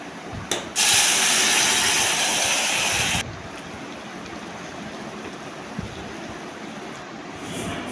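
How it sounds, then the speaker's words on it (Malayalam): Yam softened in a pressure cooker is tipped into a hot pan for a Kerala stir-fry, setting off a loud burst of sizzling hiss that lasts a few seconds, then drops back to a quiet background hiss. "കുക്കറിൽ ഒറ്റ വിസിലിൽ വെന്ത് കാവത്ത് നമ്മൾ അതിലോട്ട് ചെരിഞ്ഞു കൊടുക്കുകയാണ് ചെയ്യുന്നത്"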